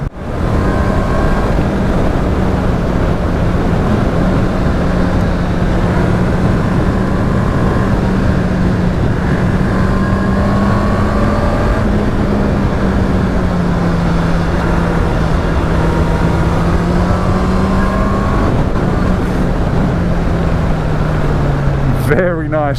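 A 2019 Honda CBR650R riding through a bend, its engine a loud, steady drone with a slowly wavering pitch under heavy wind rush, close and continuous.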